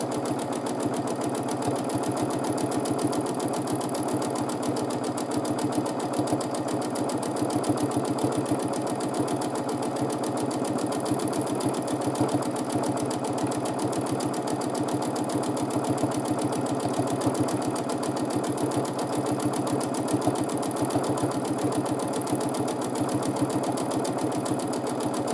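A sewing machine runs steadily during free motion quilting of arch-based designs, a close, even, continuous motor whir with fast rhythmic needle clatter lasting the whole stretch without pause.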